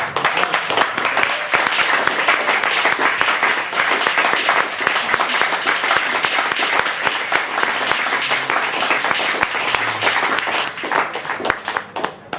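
Loud, sustained applause from a club audience at a poetry reading in Chicago, dense clapping running over twelve seconds with scattered cheers and a few whoops, tapering near the end.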